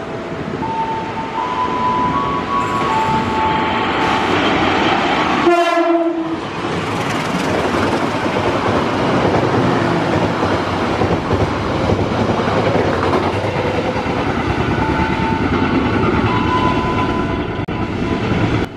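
A locomotive-hauled passenger train rumbles past with steady rolling wheel noise, its horn sounding several times in long tonal blasts, loud and close throughout.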